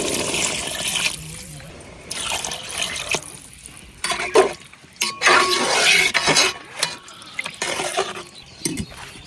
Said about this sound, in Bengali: জল দিয়ে দিতেছি